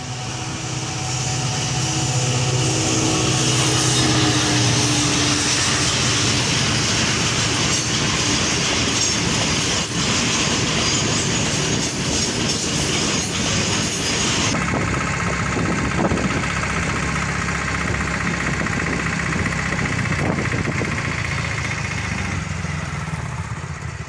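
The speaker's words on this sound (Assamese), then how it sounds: "চাব ট্ৰেইন আহিছে না" A train rolls past close by, a loud sustained rumble of wheels and wagons with rhythmic rail clatter, the sound shifting partway through as the cars continue passing.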